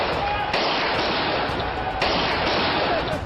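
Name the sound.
gunfire during riots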